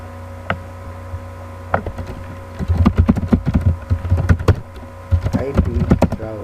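Keys tapped on a computer keyboard while entering a default route command on a Cisco router, a scattered run of clicks that quickens into dense bursts of typing with a low hum underneath.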